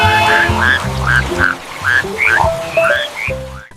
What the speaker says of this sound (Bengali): জঙ্গলে বৃষ্টি শুরু হওয়ায় সব ব্যাঙ একসাথে গাইতে শুরু করলো ব্যাঙছানার গান।